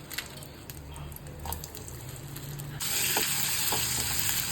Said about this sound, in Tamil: நல்லா வறுத்துட்டு பொன்னிறமாக வரும்போது அடுப்பு.